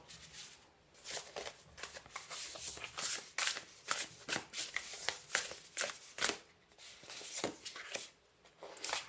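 Tarot cards being shuffled for a draw, with a run of crisp, rapid riffles and flutters repeating at an uneven rhythm, heard close up and alone with no talking.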